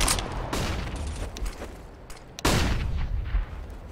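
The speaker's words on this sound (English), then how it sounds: "Deploying flashbang." A flashbang grenade and gunfire in CS:GO: a few sharp, fairly distant bangs and cracks, the loudest near the end, with mechanical clatter between them and no talking.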